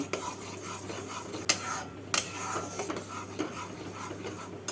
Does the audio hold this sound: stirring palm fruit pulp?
yes